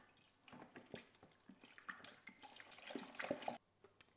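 Apple juice splashes and trickles into a disinfected home wine-brewing bucket, a close, uneven run of liquid pouring with scattered drips and splatters, steady for a few seconds before easing off near the end.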